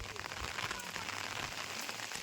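Heavy rain with big drops falls in wind, making a brief, dense, even hiss of patter at moderate volume, with no voices.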